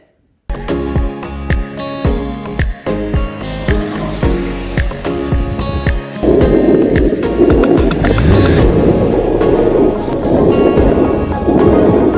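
Urethane wheels of a surf skateboard roll over pavement with a steady, loud rumble, broken by sharp clacks and bumps in the first half before a smoother, denser roar takes over.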